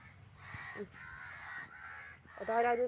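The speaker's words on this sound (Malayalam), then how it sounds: "കാക്കയോ" A crow caws several times in quick succession outdoors near a house, moderately loud, with a voice breaking in near the end.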